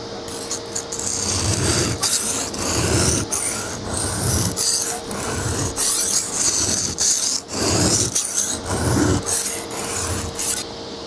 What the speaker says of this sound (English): and then we'll move into the medium grit.